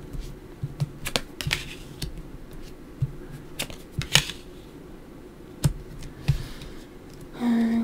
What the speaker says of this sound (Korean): 타로 카드 같이 열어보도록 할게요